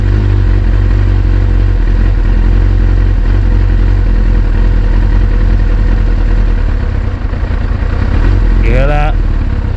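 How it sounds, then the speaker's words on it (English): Carbureted motorcycle engine idling after a cold start with the choke pulled, a loud, close, steady low chugging drone with slight clatter, ending in a brief high squeal. "I'm going to pull my choke back up and then see if you can hear the difference in the engine sound"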